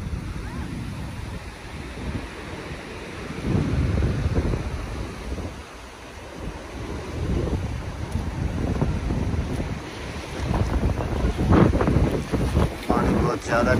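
The Kunhar River in Naran Valley, Pakistan, roars in a strong, continuous, fast mountain flow, buffeted by gusts of wind against the microphone, with no voices.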